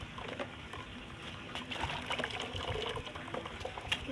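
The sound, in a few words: water being poured into mud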